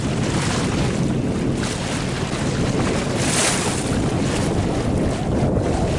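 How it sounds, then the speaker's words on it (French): Wind and waves at sea aboard a sailboat off the Vendée coast, a steady loud rush of wind across the microphone with water slapping and washing against the hull, no voices. "soit il y a du vent et vous avez le bruit des vagues et des flots sur la coque"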